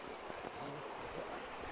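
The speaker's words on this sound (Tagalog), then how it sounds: "Kaya yan, malakas ang tubig." A strong current of water rushing steadily, a broad, even roar with no breaks, heard faintly and from some distance without any voices.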